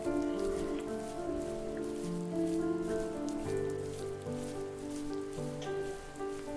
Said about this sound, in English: The rain now. Gotta be a rainy level, right?